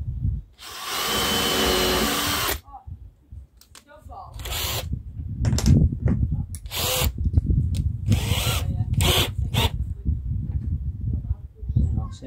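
A power drill drives a screw into timber fitted to a plywood box, giving a short loud whine, then after a pause a longer run of bursts as the screw goes in, with someone talking between and over them.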